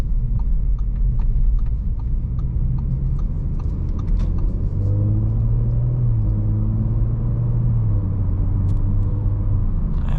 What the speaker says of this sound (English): It's got a nice low grumbly noise to it.